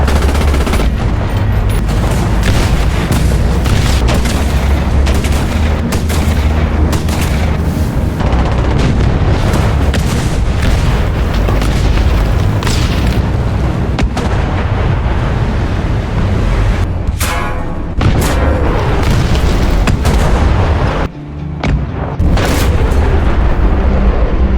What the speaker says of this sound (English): a rocket would explode so close to them